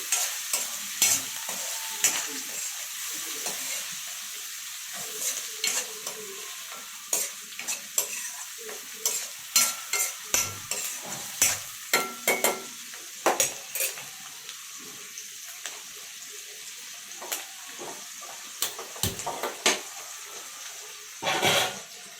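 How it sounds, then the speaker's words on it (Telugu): Chopped onions frying in oil for a tomato egg curry, with a soft continuous sizzle beneath frequent close metallic clinks and scrapes of a spatula against the pan, stirring in irregular bursts. "ఉల్లిపాయ ముక్కలు వేసుకొని కలిపేసుకోవాలండి. లైట్ గోల్డెన్ బ్రౌన్ కలర్ వచ్చేంత వరకు వేయించుకోవాలి."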